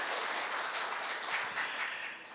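A church congregation claps in thanks at a harvest thanksgiving service, a dense, even wash of applause from many hands that fills the room for a couple of seconds with no voices.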